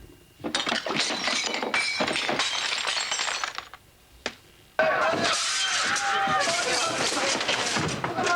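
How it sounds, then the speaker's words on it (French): Breaking glass sound effect made by a foley artist: bursts of shattering and clinking glass, a sharp crash around the middle, then a sustained loud crunch and tinkle of shards. "Quelques bruits de verres brisés, par exemple."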